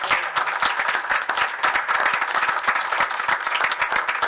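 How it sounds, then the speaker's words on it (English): Audience at a township council meeting breaks into steady, sustained applause, many hands clapping densely and evenly throughout at a fairly loud level. "I would just ask if everybody could please give them a round of applause"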